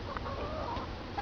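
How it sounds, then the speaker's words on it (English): A barred rock or similar backyard hen in a run makes a few soft, faint clucks over steady background noise. "And this is Sister Chicken, she's our oldest chicken."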